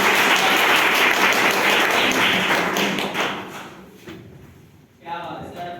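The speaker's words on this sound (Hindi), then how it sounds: "एक बार जोरदार तालियां।" Loud, dense clapping from a crowd sustained for several seconds, then fading out, with a voice starting to speak at the end.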